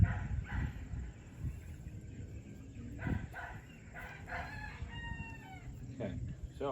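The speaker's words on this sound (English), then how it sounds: "now I have a yapping dog in the background." A small dog yaps in the background outdoors, with a rooster crowing and clucking nearby. The barks are scattered and fairly distant, mixed with other faint yard sounds.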